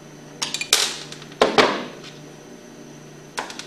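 Sharp metallic taps of a screwdriver knock a key out of a Hypro centrifugal pump shaft: a few quick clustered strikes, a pause, more ringing hits, then one last tap, close and moderately loud.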